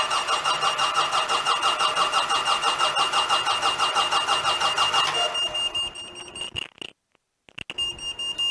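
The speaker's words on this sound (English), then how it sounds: "We're going to hop up here, crank the engine." A car engine cranks with a fast, even rhythmic churn for about five seconds, then catches and settles into a running idle, loud and close, recorded during a voltage drop test on the starting system.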